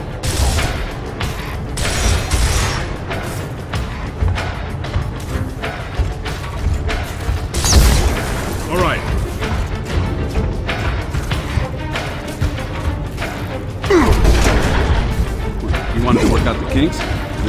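Gunshots hit a thick lock in Gears of War Ultimate Edition, heavy cracks and metallic smashing scattered among busy game noise and music, with voices talking over the action.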